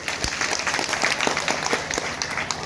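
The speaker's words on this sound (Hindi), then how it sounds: "तो एक बार आप अपने लिए जोर से ताली बजाइए।" An audience at an Anganwadi workers' gathering claps loudly, a dense continuous patter of many hands with sharper individual claps standing out, sustained throughout with little speech.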